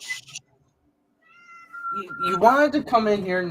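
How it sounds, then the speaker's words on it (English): A house cat meows indoors near a door, a short tonal call heard between bursts of a person talking to it. "Yeah, that's my cat."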